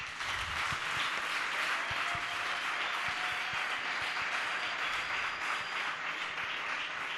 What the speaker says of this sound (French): Très respectueusement, je vous prie de les applaudir